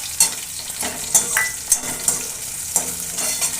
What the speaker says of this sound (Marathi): मिरच्या छान अशा तळून घ्यायच्या थोड्याफार असे याच्यावर डाग पाहिजे